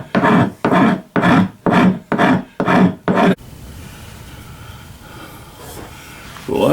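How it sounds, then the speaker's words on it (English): A hand rasp files down the end of a wooden dowel rod being shaped to fit a trigger guard: six loud, evenly spaced scraping strokes, then the rasping stops and only quiet room noise remains. "I'm going to rasp it down to a fit, where it actually going to fit that trigger guard."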